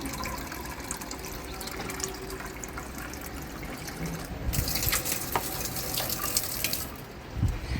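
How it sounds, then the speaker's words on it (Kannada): Water is poured onto a tulsi plant: a soft running trickle that swells into a fuller splashing gush partway through, close by and without speech. "ಸೊ ಹಂಗಾಗಿ ತುಳಸಿಗೆ ಸ್ವಲ್ಪ ನೀರು ಹಾಕೋಣ."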